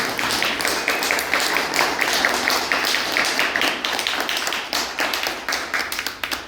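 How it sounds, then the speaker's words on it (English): An audience applauds with steady, dense clapping that holds at an even level throughout. "if you could please give them a round of applause"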